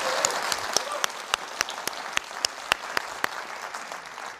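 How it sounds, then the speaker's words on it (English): A studio theatre audience at a climate-themed debate gives a round of applause, steady dense clapping with sharp individual claps standing out, moderately loud and continuous throughout. "Should we give them a round of applause?"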